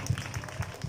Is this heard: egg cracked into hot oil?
no